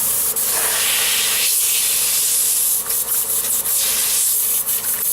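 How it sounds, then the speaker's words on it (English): An airbrush with its front blocked forces cleaner back through itself, a loud continuous bubbling hiss close by with brief dips and sputters as it runs. "block the front of that airbrush, kick cleaner back through it"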